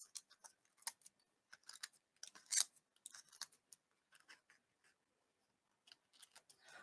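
Masking tape peeled slowly off paper, quiet crackling and ticking pulls in short irregular bursts with brief pauses, heard close and alone.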